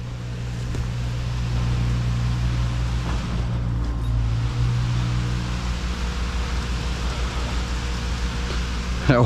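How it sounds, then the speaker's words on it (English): Steady rushing water pumped out of a footer fills the scene with a low, continuous churn and wash, close by, with a faint voice briefly underneath. "That water's flowing, he's pushing it all back out of that footer"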